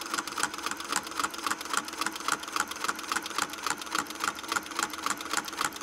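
A sewing machine runs steadily as it stitches a quilt around a Westalee ruler template, a fast, even mechanical chatter that holds a constant rhythm throughout, close and moderately quiet.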